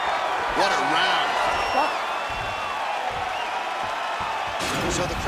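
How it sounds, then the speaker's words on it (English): A boxing crowd cheers and applauds after a round, a steady roar of voices and clapping with whoops rising over it, under a commentator talking. "So the crowd voicing its appreciation after that round."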